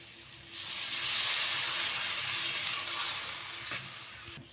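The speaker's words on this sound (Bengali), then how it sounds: "এবার আমি জলটা দিয়ে দেবো।" Water poured into a hot pan of spiced fried potatoes bursts into a loud, steady sizzle and hiss that holds for several seconds, then cuts off abruptly.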